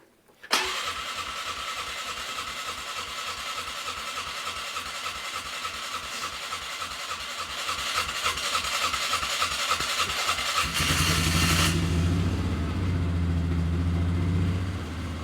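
A cold 2002 Polaris Sportsman ATV engine cranks briefly, then catches and runs with a steady chugging idle that grows slightly louder before settling near the end, close and continuous.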